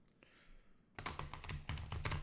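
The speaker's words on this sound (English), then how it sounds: "One more shuffle here." Oracle card deck being shuffled by hand, a quiet pause then a burst of rapid crisp riffling and tapping of cards, close and loud.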